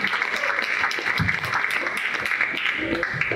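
Applause at a school sports award dinner greets a Coaches Award winner, dense clapping carrying on steadily with some murmured voices and whoops mixed in.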